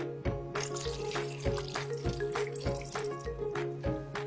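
Water pours into a slow cooker holding penne pasta, chicken and marinara sauce, splashing and gurgling close by in uneven surges, with no voices.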